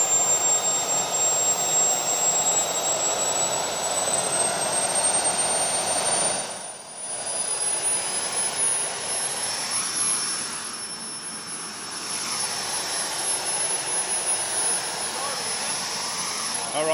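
A small kerosene-fuelled model jet engine holds a steady idle near 51,000 RPM, giving a continuous roaring rush with a high turbine whine, dipping briefly twice, with voices talking intermittently over it.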